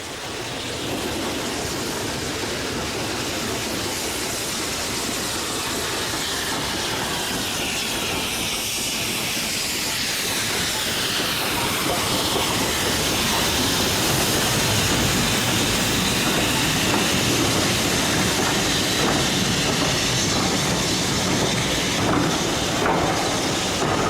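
British Railways' last steam locomotive working up a severe 1 in 49 gradient between Grosmont and Goathland, heard as a loud continuous wash of steam hiss and rail noise that persists for the whole stretch.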